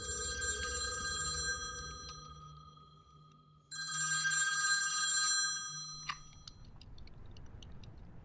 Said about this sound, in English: Her phone rings in the distance.